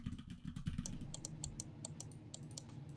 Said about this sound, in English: I can hear all of your like clicking and typing, and all my clicking and typing is also gonna be coming through